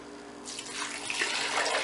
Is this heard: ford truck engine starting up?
no